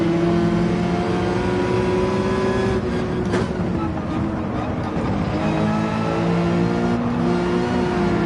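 Race car in Gran Turismo 7 losing traction and spinning out, a loud sustained engine drone with tonal whine that wavers and dips as the car whips around, then resumes under a steady roar.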